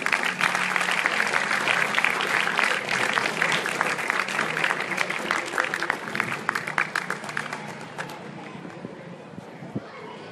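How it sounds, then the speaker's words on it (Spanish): A crowd at a school wellbeing event in Progreso applauds the governor with dense, sustained clapping that thins toward the end, and voices mix in underneath. "un aplauso para el gobernador."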